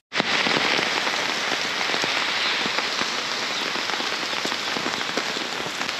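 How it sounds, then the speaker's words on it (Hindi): Heavy rain pours steadily and loudly onto a hard surface, a dense unbroken hiss of drops from start to finish. "बारिश में भीग रहे हैं।"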